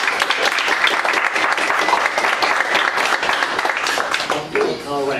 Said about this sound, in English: we'd like to give a warm round of applause for Dr.